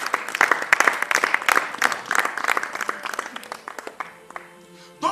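A church congregation applauding and cheering together, a dense burst of clapping that is loud at first and then thins out and fades over a few seconds, heard alone with no speech.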